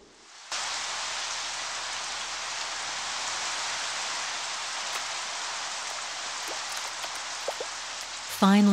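A long-awaited heavy downpour after months of drought in giraffe country, a dense, steady hiss of rain starting abruptly and continuing loud and even.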